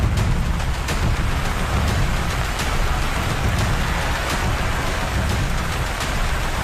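Heavy rain pours steadily during flooding in Kerala, a dense, continuous broadband hiss and patter with low rumbling underneath, loud and unbroken throughout with no voices.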